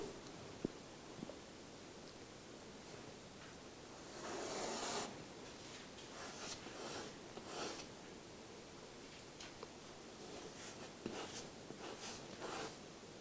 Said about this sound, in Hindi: इधर लिख देता हूं मैं